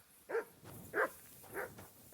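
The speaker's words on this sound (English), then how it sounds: "what is Mutt barking about?" A dog in Kingdom Come: Deliverance II barks four times at an even pace, close and fairly loud, with no talk over it.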